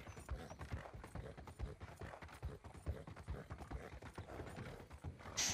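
Horse hooves clip-clop across a bridge in Red Dead Redemption 2, a steady rhythmic run of hoofbeats at close range with no talk over them.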